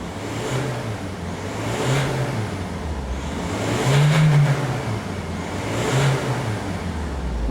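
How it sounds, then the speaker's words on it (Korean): A Kia K5 diesel sedan's engine revs up repeatedly in smooth rising and falling surges, a moderate, fairly refined drone heard up close with no talking. "엔진 소리는 생각보다 크진 않아요 생각보다 크진 않고 한번 밟아 보겠습니다"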